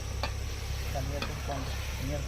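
Chicken gravy simmering in a pan over an outdoor fire in a forest, a constant bubbling sizzle with faint clinks and a low background hum throughout, close and without talk.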